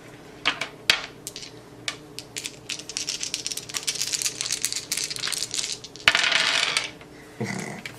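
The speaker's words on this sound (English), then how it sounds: "It rolls 4 dice." Four dice rolled during a Betrayal Legacy board game session, giving a series of sharp clattering rattles and taps across a table, with a louder tumbling burst near the end.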